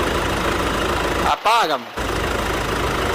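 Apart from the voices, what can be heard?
Mitsubishi L200 Triton 3.2 diesel engine idling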